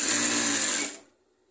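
A sewing machine stitches the bottom hem of envelope-style trousers in a rapid, even whir close by, running for under a second before stopping abruptly into silence.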